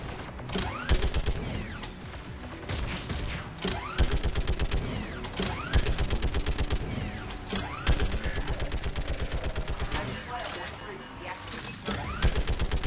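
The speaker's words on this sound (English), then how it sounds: "You should be able to operate a vacant guest turret yourself, Shepard." Rapid bursts of automatic turret gunfire from the video game Mass Effect 3, loud and dense, with mechanical clanks and whirring in between and a voice speaking over the action.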